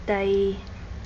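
A single kitten meows once, a clear tonal cry of about half a second rising and then held, close by, with quiet room noise after it.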